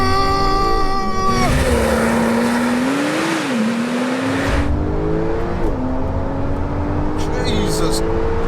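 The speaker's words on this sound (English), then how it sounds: "the long-awaited first drive on my Porsche 911 Turbo S" A 580 bhp Porsche 911 Turbo S on its first drive, its engine note rising and falling steadily through gear changes, loud and close, with a voice talking over it.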